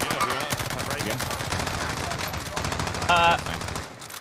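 Stock M13 rifle gunfire in a video game, rapid bursts of shots running throughout under busy game sound and faint voices, with a louder burst near the end.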